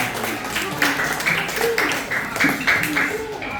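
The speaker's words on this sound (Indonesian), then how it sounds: "Tepuk tangan dong untuk kita semua." A group claps together in a community class on gotong royong, uneven hand claps running through the whole stretch while a voice keeps talking over them.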